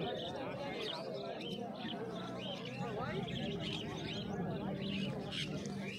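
Several pet birds, including lovebirds, chirp and call at a pet market in Uluberia, their calls scattered over a constant background of voices and market bustle.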